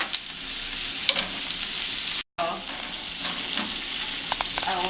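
Steady hiss and crackle of onion frying in a hot pan, with occasional clinks and stirring, close and moderately quiet, and one brief dropout partway through.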